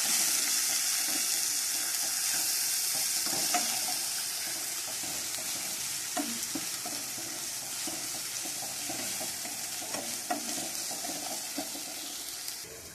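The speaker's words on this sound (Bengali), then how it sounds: "দিয়ে দিলাম আদা বাটা, রসুন বাটা। মশলাটাকে এবার ভালো করে কষাতে হবে।" Masala with ginger and garlic paste sizzles steadily in a pan while being stirred, giving a continuous close frying hiss with occasional scrapes and no voices.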